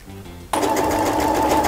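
A sewing machine stitching a blouse starts up after a brief quieter hum and then runs at a steady, continuous whir, close and loud with no talk.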